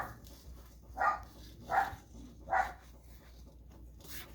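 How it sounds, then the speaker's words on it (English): Dogs barking in the distance, three evenly spaced muffled barks followed by a fainter fourth, over a quiet background. "Dogs are barking."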